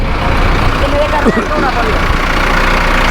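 A tractor engine runs steadily while driving a straw-chopping machine at around 1500–1600 rpm, giving a continuous, close, even low drone with no pauses.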